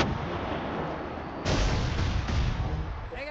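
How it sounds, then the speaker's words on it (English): Gunfire in the video game Pit People: a steady wash of distant battle noise with two louder bursts of shots, loud throughout and with no speech over it. "Those guys aren't shooting at us."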